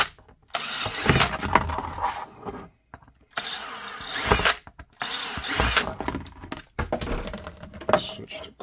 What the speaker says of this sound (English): Drill the retention.